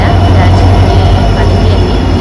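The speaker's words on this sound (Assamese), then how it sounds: "এফালে আমাৰ ট্ৰেইন আহিলে এতিয়া" A train rolls into a station with a steady low rumble and hum of wheels and cars, close and continuous, while a faint voice murmurs underneath.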